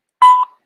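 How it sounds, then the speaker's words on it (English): A single short, clean electronic tone sounds at the start of a phone call, loud and alone, about a quarter second long before it fades quickly. "The call will start at the beep"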